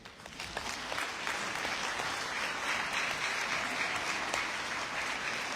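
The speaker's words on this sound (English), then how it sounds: "Big hand of applause." A crowd at a New Zealand First political gathering claps steadily and loudly, sustained applause filling the space without pause.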